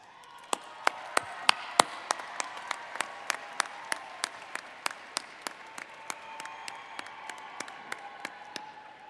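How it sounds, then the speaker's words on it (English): Sparse, widely spaced claps ring out alone in a large space at a university commencement, with single sharp hand claps sounding one after another at a steady pace rather than as a dense ovation. "give them a round of applause"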